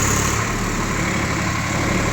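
A Swaraj 855 tractor engine runs in second gear range, a loud, close, steady diesel drone with a low rumbling throb and no speech.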